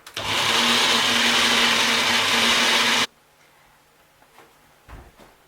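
A blender roars loudly and steadily for about three seconds, grinding peanuts into thick peanut butter, then cuts off abruptly into near silence with faint taps on the jar.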